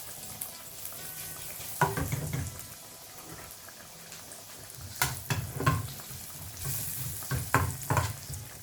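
Paprika and thinly sliced ginger get stirred in a hot pan, with brisk spoon scrapes and clinks coming in quick clusters over a light, steady sizzle.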